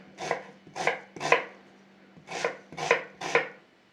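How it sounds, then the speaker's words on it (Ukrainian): A knife finely chops onion for a potato and dill pie filling, six crisp cuts on a board in two groups of three, close and steady with no talk. "Так, нарізаємо цибулю. Дрібненько."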